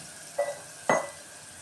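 Onions sautéing in a pan for sambar give two brief bursts of stirring and sizzling, the second louder, close and separated by a short quiet gap.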